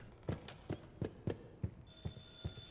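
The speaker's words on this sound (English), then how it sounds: "The phone is ringing." A telephone rings in the video game Stygian: Outer Gods, a rapid series of regular, evenly spaced trills, fairly quiet and electronic-sounding, with a steady tone joining near the end.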